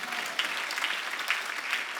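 A church congregation claps during a Sunday worship service, soft, somewhat distant rhythmic clapping with a few sharper accents, steady across the moment.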